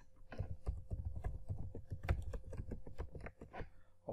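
A password is typed on a computer keyboard while importing a Maven project into Eclipse, giving a quick, steady run of close keystrokes with a brief pause near the end and no talk.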